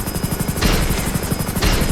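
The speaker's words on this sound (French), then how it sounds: "Ce hélicoptère il me fait trop délirer, regardez." A helicopter in the video game GTA 5 gives a steady, loud rotor chop with a dense whirring hum, alone with no voices.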